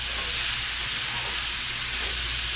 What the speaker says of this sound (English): fry up a little bit. Wake up the spices.